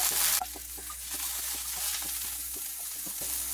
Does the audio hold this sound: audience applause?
no